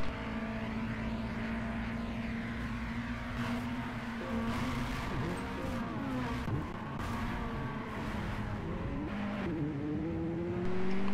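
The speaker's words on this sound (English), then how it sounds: "I want you guys on the straightaway to listen to his throttle" A race car in Gran Turismo 5 at Autodromo Nazionale Monza holds its throttle down the straight. The steady engine drone shifts pitch slightly as it pulls along, then rises sharply at the very end. No one speaks.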